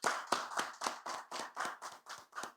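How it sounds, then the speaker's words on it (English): Applause for sponsors at a capital markets awards event, heard as a run of about nine distinct, fairly loud claps in a steady rhythm, like a single pair of hands or a small group clapping in unison, with no talk. "maybe we could just give you a round of applause"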